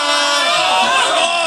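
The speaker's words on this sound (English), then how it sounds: "The crowd rooting it on." A crowd at a bowling match cheers and roars loudly throughout, a dense wash of shouting and whooping voices.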